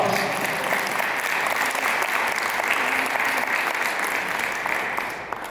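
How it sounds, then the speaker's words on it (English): A large audience at a public service panel event claps in a loud, sustained round of applause that holds steady throughout and fades slightly at the end. "let's give her another loud round of applause."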